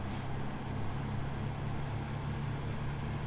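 In X-Plane 11, the engine of a Socata TB-10/TB-20 light aircraft runs up with a steady, noisy drone at an even level.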